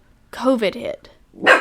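A dog gives one short bark after a brief burst of speech, close and fairly loud.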